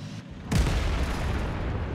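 An artillery shell strike in World of Tanks lands as one heavy, deep boom, rolling on with a rumbling tail over low background battle noise, no talk.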